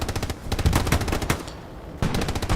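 Machine gun fire in the Hell Let Loose video game during a Utah Beach match: rapid, loud automatic bursts hammer out in quick succession with a short pause, close and dominant, with no speech.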